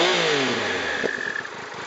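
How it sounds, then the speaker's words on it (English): Triumph Tiger 1200 Explorer motorcycle fitted with a Remus aftermarket exhaust idling at tick over, a steady close rumble with a slight blip partway through. "It's a little bit louder on tick over."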